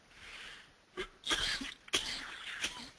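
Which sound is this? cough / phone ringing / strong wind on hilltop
cough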